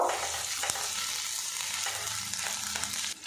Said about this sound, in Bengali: হালকা করে এগুলো ভাজা ভাজা করে নেব